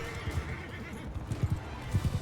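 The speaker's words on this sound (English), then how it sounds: "I heard hoofbeats." Horse hoofbeats in the Mount & Blade II Bannerlord battlefield, with a neigh, as a steady clip-clop of several hooves builds over a low rumble of battle noise.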